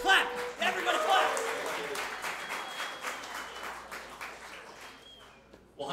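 A crowd applauds, a dense wash of clapping that swells early, then slowly fades over several seconds before a brief burst at the end.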